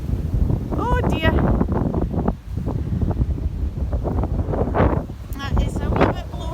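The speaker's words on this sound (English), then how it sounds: "That is a wee bit blowy." Strong wind gusts on an outdoor walk with dogs among blowing trees, giving heavy buffeting roar and rumble on the microphone, with a voice heard briefly over it.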